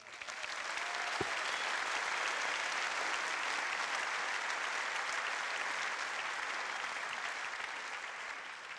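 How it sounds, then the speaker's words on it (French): Conference audience applauding volunteers, a steady dense wash of many hands clapping that fills the room evenly and holds loud for the whole stretch. "Je pense qu'on peut les applaudir."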